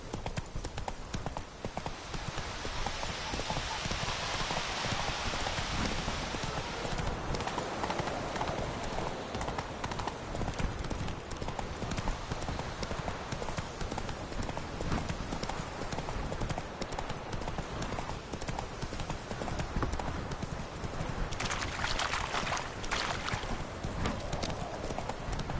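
Hooves of the horse Roach pound in a rapid galloping rhythm in The Witcher game, steady and close throughout with scattered whinnies, and no talking over it.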